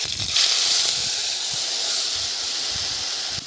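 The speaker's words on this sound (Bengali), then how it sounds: "কড়াই কালো জিরে দিয়ে দিলাম দিয়ে দিচ্ছি কাঁচা লঙ্কা" Nigella seeds and green chilies land in hot oil in a wok, cooking for an eggplant tel jhal. The result is a loud, close, continuous hissing sizzle with no voices.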